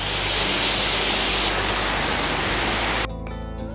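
Heavy rain pours in a dense, steady roar, close and loud, before cutting off abruptly near the end.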